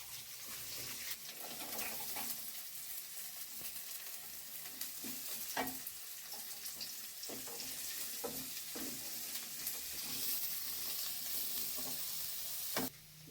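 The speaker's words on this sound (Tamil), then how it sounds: "கூடவே நம்ம எல்லா காய்கறியும் ஒன்று ஒன்றா போட்டு அப்படியே லேசாக வதக்கலாங்கம்மா" Vegetables and green chillies sauté in a hot pan with a steady loud sizzle, and a spoon stirs and scrapes now and then while paneer rice is cooked; nobody speaks.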